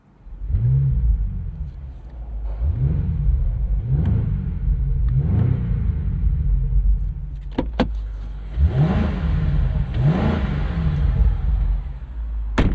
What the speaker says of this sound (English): Doesn't really sound like too much. There's not a lot of drama with this V8.